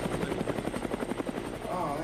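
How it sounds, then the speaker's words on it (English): A helicopter in the VR battle royale game Standout makes a loud, rapid, steady rotor chop that fills the scene, with a voice speaking over it. "So this is what it's like jumping out of a helicopter"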